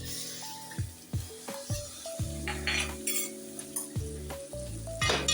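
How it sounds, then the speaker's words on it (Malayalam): Bihar-style chicken curry cooked in mustard oil sizzles steadily in a pan over very low flame while a utensil scrapes and clinks against the metal through repeated stirring strokes. "നന്നായിട്ട് ഇളക്കി മിക്സ് ചെയ്ത് തീ വളരെ ലോ ഫ്ലെയിമിലിട്ട്"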